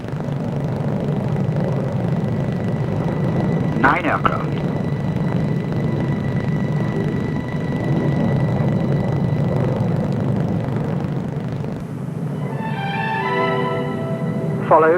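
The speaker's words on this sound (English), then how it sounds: "Mass demonstration of Hawker Hunters by 111 Squadron." Nine Hawker Hunter jets of 111 Squadron fly a mass demonstration at a 1950s Farnborough air show, a steady loud roar of jet engines filling the air throughout, with a sharp whining screech near the end.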